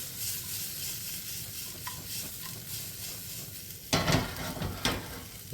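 Seasoned breakfast food, with salt and pepper, fries in a pan with a steady close sizzle and hiss. A couple of louder stirring scrapes break in near the end, and no one speaks.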